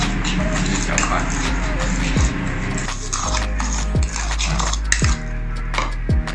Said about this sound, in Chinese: 就是搅拌。